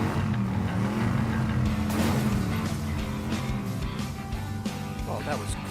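Cartoon monster fire trucks make a trial race run, their engines droning steadily with passing swells under continuous chatter.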